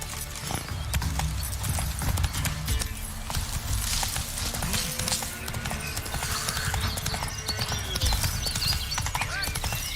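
Geralt's horse Roach in The Witcher 3, hooves clip-clopping in a steady walking rhythm throughout, with speech passing over it.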